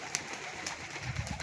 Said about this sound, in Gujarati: કબૂતર ફૂલ બીવે છે.